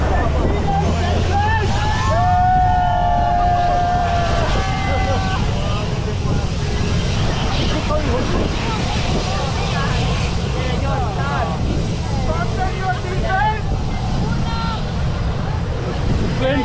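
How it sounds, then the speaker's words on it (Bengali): Airplane engines roaring during takeoff, heard from right beside the runway as a loud, sustained blast mixed with wind buffeting, while someone talks over it. "প্লেনটা টেক অফ করবে এখন, আর ইঞ্জিনের খুব জোর ব্লাস্ট"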